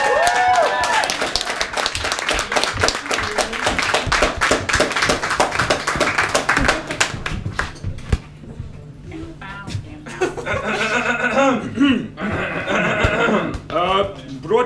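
An improv show audience applauds as performers come on stage, dense steady clapping that fades out, followed by a host talking over a lighter patter of claps.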